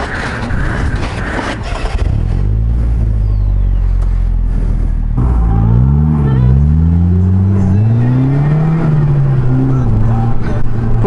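A Polaris Slingshot pulls out into traffic, its engine climbing in pitch as it accelerates hard after a brief pause, loud and close, with faint wind and road noise behind.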